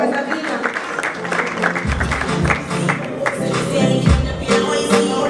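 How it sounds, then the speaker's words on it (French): Audience applause at an award ceremony for best diaspora artist trophies, with mixed clapping from a sizable crowd alongside music and a voice underneath, steady and fairly loud throughout. "s'il vous plaît, applaudissez."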